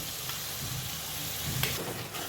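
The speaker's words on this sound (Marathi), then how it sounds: "काजूला सुद्धा छान फ्राय करून घेऊया" Onion and cashew paste sizzles steadily in a pan, a dense continuous frying hiss with a brief stirring scrape partway through.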